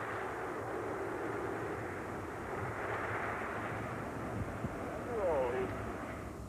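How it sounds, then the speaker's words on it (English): Space Shuttle Atlantis lifting off on the STS-44 Department of Defense mission, a steady, broad roaring rumble filling the whole stretch, with a broadcast commentator's voice running over it. "Liftoff of Atlantis and the six-man crew on a Department of Defense flight."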